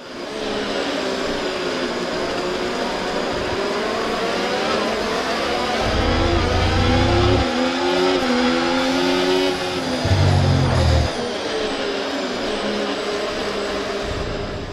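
Race cars in a racing sim video game, engines droning and shifting up and down through gears with a steady, continuous loud whine and brief tire noise, no voices.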